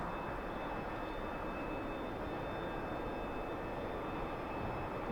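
A T-45C Goshawk jet in the DCS flight simulator lines up on the runway, its engine giving a steady, unbroken roar with a faint high whine over it, continuous for the whole stretch.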